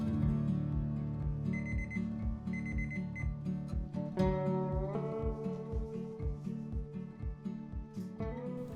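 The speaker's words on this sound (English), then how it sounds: "set your timer for 25 minutes" A kitchen oven timer alarm rings while cakes bake, a sequence of loud, bright electronic beeps and chiming pulses repeating in a steady rhythm for several seconds, close and alone with no talking.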